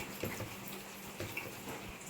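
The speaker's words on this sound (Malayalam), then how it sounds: "ഇതിൻ്റെ അകത്തേക്ക് നമുക്ക് ആവശ്യത്തിന് വെള്ളം ഒഴിച്ചു കൊടുക്കാം" Water poured into a pot of tapioca and bone curry gives a faint, steady splashing wash with a few soft splashes and no talking.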